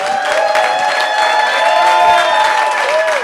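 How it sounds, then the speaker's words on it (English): Crowd applause and cheering for two baseball guests, a former Giants player and a Hall of Fame pitcher, at a live evening show, with steady clapping under whoops and a sustained tonal whistle or voice. "get a big round of applause for our two guests"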